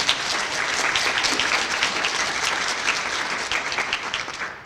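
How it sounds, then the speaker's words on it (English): A crowd at an academic excellence banquet in Cumberland County applauds steadily, dense clapping that holds at the same loud level throughout without letting up. "Let's give her a round of applause."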